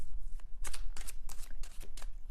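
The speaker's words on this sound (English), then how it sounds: "I am shuffling the cards" Tarot cards being shuffled by hand, a series of quick crisp riffling bursts in a steady rhythm, close and fairly quiet with no talking.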